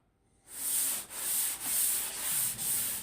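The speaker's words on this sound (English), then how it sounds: "This is how I block sand." 320 grit sandpaper on a sanding block is worked across a car body panel in steady back-and-forth strokes, making a close, loud, hissing rasp that pulses about twice a second and has no talk over it.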